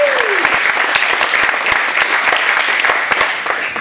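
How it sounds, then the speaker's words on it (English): A crowd claps for platinum sponsors at a startup weekend event in New Orleans, dense and loud throughout, with a brief rising tone at the start and a few distinct nearby claps over the wash. "Please big round of applause for these guys."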